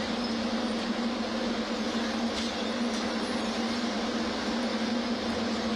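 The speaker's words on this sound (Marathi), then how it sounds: "टनेल बोरिंग मशीनद्वारे बोगदा खोदण्याचं हे काम आता होताना आपण पाहतोय" Steady, loud mechanical rumble with a strong low hum from a tunnel boring machine digging a metro tunnel underground, continuous and unbroken throughout with no voices.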